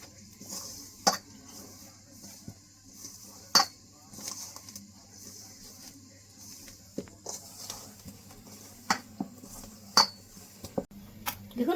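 Flour is worked with refined oil and salt in a bowl for chicken roll dough: soft rubbing with scattered light clinks and taps against the bowl at an irregular pace, fairly quiet.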